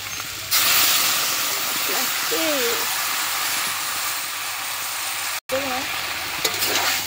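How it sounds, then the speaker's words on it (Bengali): Spices are stirred into taro frying in a pan, giving a loud continuous sizzle and hiss with scraping stir sounds, close up, broken by one very brief dropout. "দিয়ে সুন্দর করে নাড়াচাড়া করছি।"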